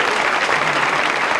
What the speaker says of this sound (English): round of applause for those people who are doing that.